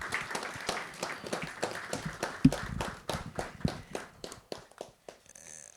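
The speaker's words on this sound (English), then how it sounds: "Another round of applause for Dr. Hobson, please." An audience claps in scattered, uneven bursts that gradually thin out to a few last claps, moderately close with no talking.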